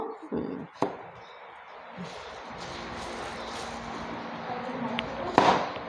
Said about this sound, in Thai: อ่ะเอาหอมใหญ่ก่อนดีกว่าเนาะเอาเป็นหอมใหญ่ หั่นเลยค่ะ